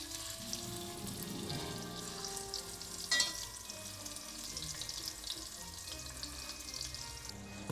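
Herb-rubbed meat frying in a pan gives a low steady sizzle and crackle, with a brief clatter near the middle and a faint running-water wash in the background; no one speaks.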